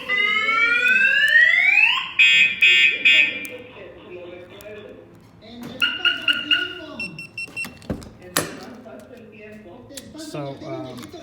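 A Viper car alarm fitted to a 2001 Jeep Wrangler TJ goes off after its shock sensor trips. A loud rising siren wail gives way to repeated electronic chirps and warbles, with someone talking over parts of it.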